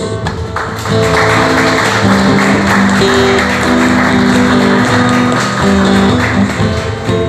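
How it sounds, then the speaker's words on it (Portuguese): Church or worship audience applauding after a call to applaud Jesus, a dense, steady wash of clapping lasting several seconds, loud and continuous with music-like tones underneath. "Eu queria te convidar a aplaudir Jesus."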